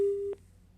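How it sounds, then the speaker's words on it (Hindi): A steady telephone busy tone sounds after a phone line drops during a Hindi TV news debate call-in; one loud sustained beep is followed by a short second pulse, with no voices. "फोन डिस्कनेक्ट हुआ है"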